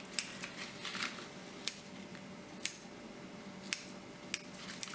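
Kitchen scissors snip into marguerite bread dough, giving sharp, crisp clicks spaced about a second apart, close and clear against a quiet room.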